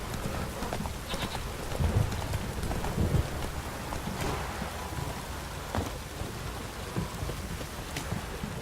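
Steady rain falls in The Witcher 3 video game, a continuous close hiss and patter on surfaces, overlaid with rhythmic horse hoof clip-clops and occasional low rumbles.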